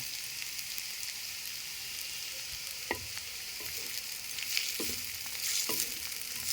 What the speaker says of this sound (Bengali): এখন আমি এই পেঁয়াজের মাঝখানে যে একটা ডিম ভেঙে রেখেছিলাম সেটা ঢেলে দেব।